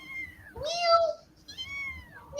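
An orange house cat with a mohawk-like tuft meows twice, a drawn-out call followed by a second one, loud and close, with faint background voices.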